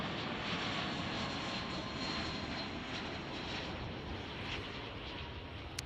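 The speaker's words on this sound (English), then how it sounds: "I think that's our United Airlines flight from Cancun." A United Airlines jet taxis at Chicago O'Hare airport, its engines a steady, broad roar at moderate distance with no talk over it.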